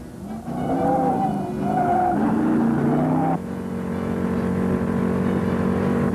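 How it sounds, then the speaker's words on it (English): A 1971 Ford Torino GT with a 429 Cobra Jet V8 drifts around a track, loud sustained tire squeal wavering over the engine's roar, continuous and close. "That 429-inch hauler up front made it possible to bring it through the turns with accelerator, power on, and rubber smoking in a four-wheel drift"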